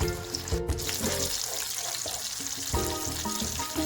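Fish frying in a pan for a village-style Marathi fish fry, a steady close crackling sizzle with hissing oil and scattered louder pops and clinks of handling, continuous without speech.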